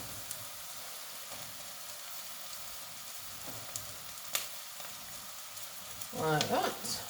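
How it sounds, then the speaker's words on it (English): Sliced mushrooms frying in butter in a pan for a gluten-free cream of mushroom soup, a steady soft sizzle and crackle with occasional clicks, then a louder scraping stir near the end. "Mushrooms are in. Give them a stir around, get them going."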